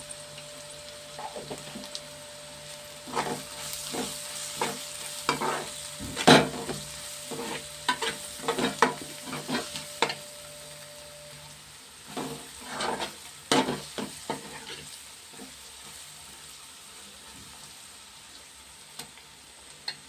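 Raw prawns fry in a pan, with a soft steady sizzle under repeated clinks and scrapes of stirring, close up and without talk.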